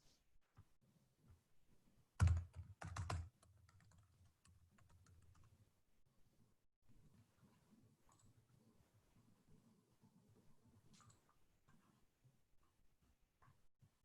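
Keys tapped on a computer keyboard, with a brief louder burst of quick keystrokes followed by sparse, faint clicks in a quiet room; no one speaks.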